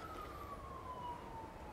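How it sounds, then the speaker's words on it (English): A siren passes by outside in the rain, a faint distant wail sliding slowly downward beneath a steady low background rumble. "listen to the sirens going by"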